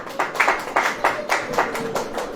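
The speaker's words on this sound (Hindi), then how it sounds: "ताली बजेगी कि नहीं?" A church congregation claps together in a brisk, rhythmic burst of applause during a sermon, each clap sharp and close, repeating evenly throughout.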